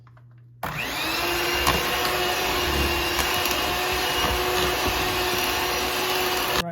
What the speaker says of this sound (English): Let's mix this up until everything dissolves.